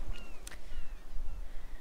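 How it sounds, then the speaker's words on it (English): A few thin, high bird calls in The Sims 3 over a quiet low rumble, brief whistled chirps spaced apart. "I love hearing the birds chirping and all that stuff."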